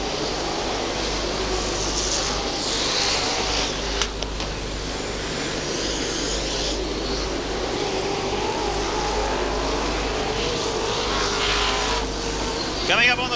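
Super sedan race cars roar down the back straight during the 1994 National Super Sedan Title A-Main at Archerfield Speedway, a continuous engine drone from several cars at moderate distance, with a commentator talking over it throughout.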